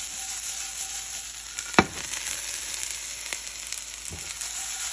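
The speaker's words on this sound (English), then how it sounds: "Oh, I love sizzling." Peppers and onions sizzle steadily in a hot pan, a close crackling hiss with a few sharp utensil clicks against the pan.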